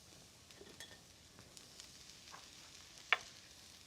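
Mushrooms for jalapeño popper-stuffed mushrooms cook down in a pan with a soft, steady sizzle, quiet and close, broken by a few light clinks and one sharp utensil tap near the end.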